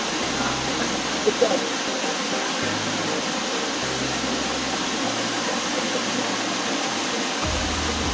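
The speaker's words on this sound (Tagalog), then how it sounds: "Malakas yung alon. Yung agos ng falls." Loud, constant rush of falling water roars close by, a broad steady wash of noise with no voices.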